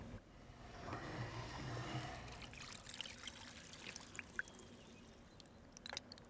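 Water trickles and drips into a shallow well in the game Riven, a faint, uneven dribble with scattered small splashes and no voices.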